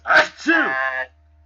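A single sharp sneeze bursts out close by, followed by a drawn-out voiced groan.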